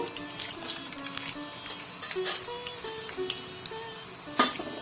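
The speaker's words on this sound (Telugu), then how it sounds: "పోపు గింజలు చిటపట్లాడుతున్నాయి." Mustard seeds and tempering spices crackling in hot oil in a pan for a Telugu raw banana fry: dense, irregular pops and sizzling crackles, close up, with scattered small clinks and no talk.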